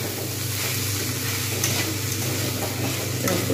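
Sago pulao being stirred in a pan, a steady even sizzle with faint scraping throughout, close and continuous with no talk.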